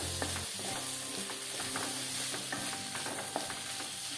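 Ginger-garlic paste fries in a pan while being stirred, a faint, continuous sizzle with small scraping ticks of the spoon scattered throughout, close but quiet, with no voices.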